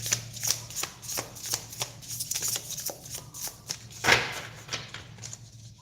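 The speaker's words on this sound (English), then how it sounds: "I'm just going to give them a really good shuffle." Tarot cards are shuffled close up, a rapid series of crisp riffling snaps and soft slaps with brief pauses between bursts.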